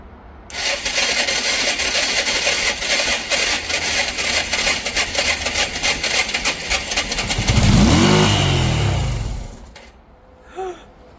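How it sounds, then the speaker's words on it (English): An old, cheap Yamaha motorbike with the choke on and fresh petrol briefly fires into a loud, rough engine roar, rising in revs near the end before cutting out abruptly into quiet. "I had a bit of a fire up from the Yamaha then, so there's definitely some life in the old girl"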